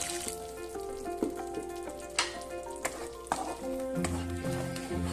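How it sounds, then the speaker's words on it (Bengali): Water poured into a pan of mustard-based fish curry (topse fish jhal) bubbles into a loud, steady sizzle with stirring clatter, close and continuous, no talking. "এবার দিয়ে দিচ্ছি জল।"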